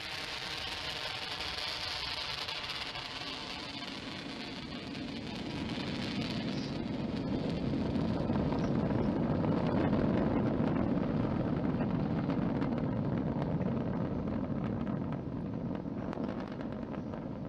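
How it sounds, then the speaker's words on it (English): Falcon 9 rocket lifting off from Launch Complex 39A at Kennedy Space Center, heard as a loud, sustained broadband roar that swells and rumbles steadily from a distance with no talk over it. "successful liftoff of the Falcon 9 from Launch Complex 39A at the Kennedy Space Center"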